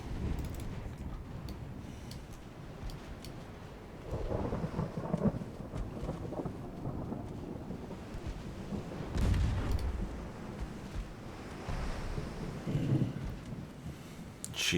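Heavy booming rumbles of a dreadnought's main guns firing at a cruiser in a naval video game, several deep low blasts rolling out at intervals over a steady background roar.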